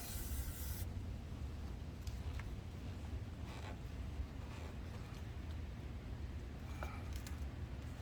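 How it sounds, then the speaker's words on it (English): A close, loud hissing burst of throttle body cleaner goes onto a rag and lasts under a second. Faint rustling and handling noises follow over steady low background rumble. "I'll spray the rag a little bit."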